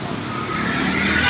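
Heavy road traffic of small and large cars, with a dense, continuous roadway rumble and engine noise close by that swells slightly toward the end.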